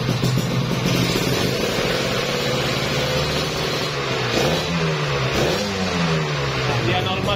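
A Kawasaki Ninja RR two-stroke motorcycle engine revs up and down close by, a raspy buzzing rise and fall with a couple of throttle blips in the second half, while someone speaks briefly over it.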